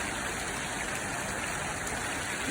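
Steady rain pours down in a constant, even hiss that fills the whole stretch without pause.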